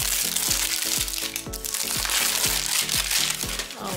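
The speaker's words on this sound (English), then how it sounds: "I'm gonna take all the packaging out." Packaging being pulled out of a Dyson Airwrap box, loud close crinkling and crushing of plastic and cardboard in steady repeated bursts for several seconds.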